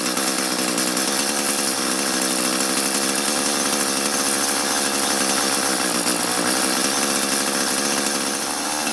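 A small two-stroke engine on a mini tiller runs rough at a high idle, buzzing loud, steady and close for the whole stretch with a slightly uneven, wavering note and no talk over it.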